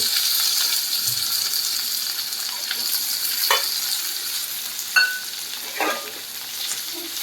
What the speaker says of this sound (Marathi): चांगला परतून घ्या. कांदा चांगला परतून झाला आहे.